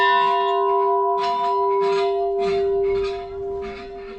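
Bells at the Bells Monument in Sofia ring in a sustained metallic tone, with several overlapping strikes repeating at a steady pace and fading slightly toward the end.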